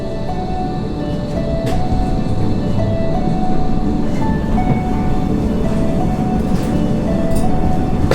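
A train running steadily through Berlin at night as it pulls into a station, with a continuous loud rumble and faint high squealing tones throughout, no voices.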